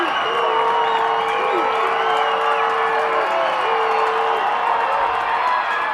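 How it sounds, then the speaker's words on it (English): A crowd at a 2013 high school football game between Joplin and Waynesville roars steadily late in the fourth quarter, with a sustained horn-like tone wavering through the noise. "The crowd is getting all pumped up."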